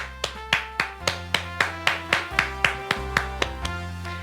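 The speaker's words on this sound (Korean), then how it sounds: "우리 하나님께 영광의 박수를 드리겠습니다" A church congregation at a Friday prayer meeting claps in unison to give glory to God. Sharp, evenly spaced claps come about four per second over sustained musical tones, each clap ringing briefly in the room.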